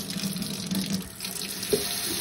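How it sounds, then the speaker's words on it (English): Water running from a tap into a jar for a birch bark dye bath, a steady close trickle and splash that continues throughout with no one speaking. "I have some water."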